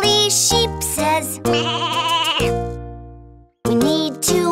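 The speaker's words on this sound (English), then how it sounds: "a woolly sheep says" Sheep bleating in a children's cartoon, several loud wavering baa calls in quick succession with a brief pause before two more close bleats at the end.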